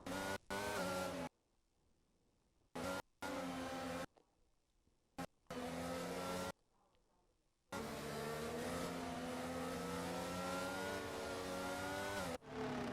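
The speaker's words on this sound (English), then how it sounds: "As we're queuing to the grid line up, VDB Dykes will be the first." Race cars in an F1 video game at Bahrain queue to the grid with steady, loud engine drone and shifting pitch, broken by abrupt cuts to near silence, then a long continuous stretch of revving cars.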